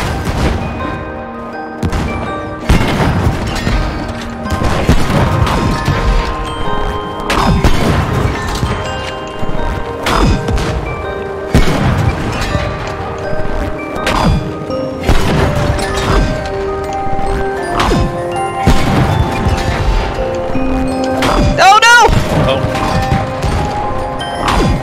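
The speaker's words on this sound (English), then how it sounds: "Oh, they're bombs. They blow up." Bombs blow up repeatedly in the co-op video game It Takes Two, a loud sequence of crashing booms and impacts spread over the whole stretch, with musical game sounds between blasts.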